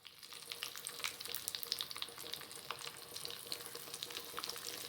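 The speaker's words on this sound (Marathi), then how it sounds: "ती तडतडायला सुरू झाली की त्याच्यामध्ये आपण कढीपत्ता, त्यानंतर लाल मिरची, सुकी लाल मिरची आहे 2 ते 3 घातलेल्या आहेत मी" Curry leaves and two or three dried red chilies crackle in hot oil for a South Indian sambar tempering, a dense, even spatter of tiny pops and hiss with no talking.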